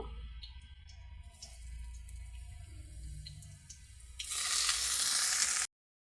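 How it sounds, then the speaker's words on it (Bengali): Potatoes frying in hot oil for a Bengali cauliflower and rui fish curry, with a soft sizzle that swells into a loud, dense hiss and crackle before cutting off abruptly. "তেলের মধ্যে আলুগুলো ভেজে নেব"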